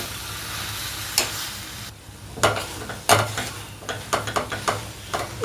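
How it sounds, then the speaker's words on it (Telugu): Amaranth leaves with onion-chili paste sizzle in a pan for Telugu thotakura ullikaram, with a constant fry hiss and several sharp stirring scrapes and clacks, close and fairly loud. "ఉల్లికారం వేగాక తోటకూర పెట్టాం కదండి, ఇది ఒక్క 10 నిమిషాలు వేగితే చాలండి"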